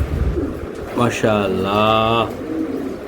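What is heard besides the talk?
racing pigeon cooing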